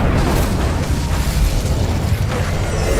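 Confringo blasting spell explosion in Hogwarts Legacy, a dense booming burst of rumbling noise that fills the whole moment, loud and close.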